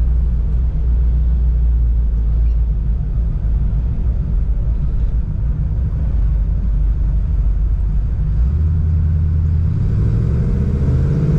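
A 1967 Pontiac Firebird engine rumbles loudly and steadily from inside the cabin, rising in pitch near the end as it accelerates.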